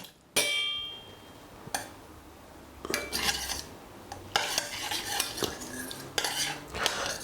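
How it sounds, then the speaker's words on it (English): A teaspoon clinks and scrapes against a glass or cup while turmeric is stirred into almond milk, with a sharp first knock and then a run of quick, close metallic taps and rubs. "1 teaspoon of the turmeric into the almond milk"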